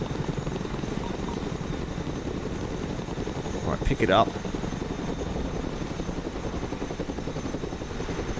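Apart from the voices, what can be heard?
Chinook cargo helicopter from a video game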